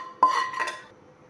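Tempering poured into dal in a pot for a dal chawal meal: a sharp metallic clink of a utensil against the pot, then a brief sizzle and light scraping that fades quickly, with no talk.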